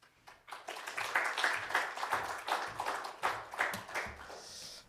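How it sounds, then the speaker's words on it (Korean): Congregation clapping in welcome as a pastor comes forward at a Korean church worship service, a moderate, steady patter of many hands lasting several seconds and fading slightly at the end. "우리 목사님 나오실 때 박수로 환영하겠습니다."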